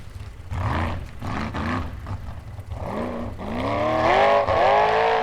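A 915-horsepower formula offroad car roars at an Icelandic Formula Offroad event in Hella, its loud, close engine revving up and down in rising surges and climbing to a sustained howl.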